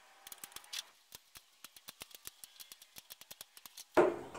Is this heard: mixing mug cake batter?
no